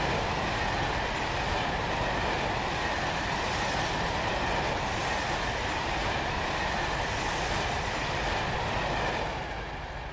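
A train roars past in Train Sim World on the Exeter to Newton Abbot line, a loud, steady rumble of wheels and carriages that holds for several seconds and then eases slightly at the end.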